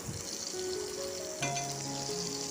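Banana flower kola balls fry in hot oil with a steady, close sizzle and bubbling, a couple of brief clinks partway through, no voices.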